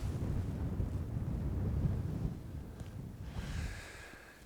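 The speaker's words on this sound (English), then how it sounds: "Wind's a little bit off the left," Wind gusts across a golf course, rumbling low and heavy against the microphone, then easing off midway.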